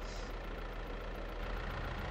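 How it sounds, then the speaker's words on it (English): A John Deere tractor engine idles steadily while warming up in Farming Simulator 22, a low constant rumble that stays even and fairly quiet with no other sounds. "Jump in the old tractor. Gotta warm up a little bit."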